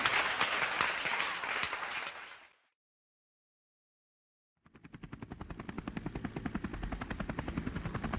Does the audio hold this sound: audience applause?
yes